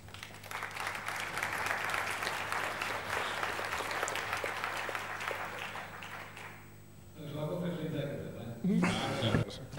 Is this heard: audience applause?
yes